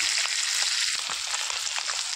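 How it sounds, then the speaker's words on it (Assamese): Pieces of rohu fish frying together in hot oil, a dense, loud, continuous close sizzle with small crackles throughout; no voices. "বহাই দিছোঁ, এনেকৈ ভাজি লওঁ।"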